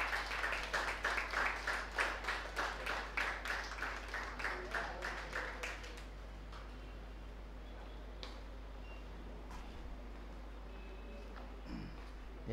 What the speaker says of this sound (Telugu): ఓకే, క్లాప్స్ కొట్టాను ఒకసారి.